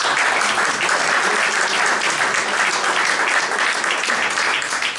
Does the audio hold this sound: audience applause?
yes